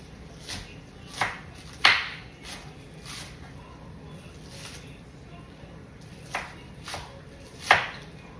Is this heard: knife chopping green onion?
yes